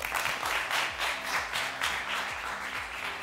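Sustained studio audience applause greeting a guest on a Pakistani talk show, steady dense clapping throughout at moderate loudness with faint musical tones underneath.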